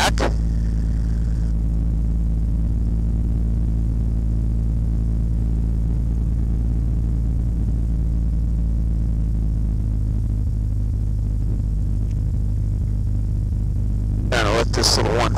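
A Franklin 220 engine on a Super Stinson 108-1 airplane runs at steady idle, a constant close, loud low rumble throughout, with a brief clunk near the end.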